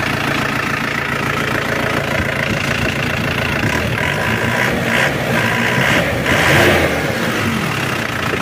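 A turbo diesel engine in an Isuzu Panther pickup idles steadily at close range, a continuous low rumble with a mild knocking texture and slight swells in revs, heard alone without talk.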